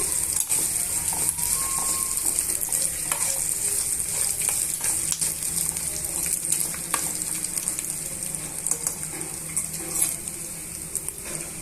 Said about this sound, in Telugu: ఇవన్నీ బాగా వేయించేసుకోవాలండి